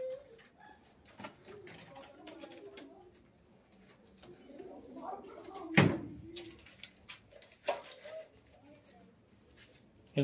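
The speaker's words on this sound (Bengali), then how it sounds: "এই যে একটা কালশিরা পায়রা, এটা নর পায়রা" Pigeons, including a male kalshira pigeon, give soft low cooing calls close by. Faint handling noises and a couple of sharp knocks come through at a low level.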